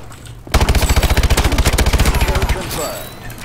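A loud, rapid burst of submachine gun fire in the Call of Duty: Advanced Warfare shooter, roughly two dozen evenly spaced shots over about two seconds, then quieter game ambience.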